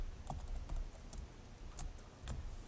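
Code being typed on a computer keyboard, a quiet and steady run of light key clicks with a few slightly louder taps, close by and with no voices.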